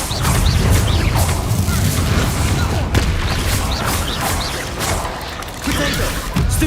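Incendio fire spell cast during Hogwarts Legacy combat, a loud whooshing burst of flame mixed with booming impacts and crashing spell effects in a busy, dense battle soundscape.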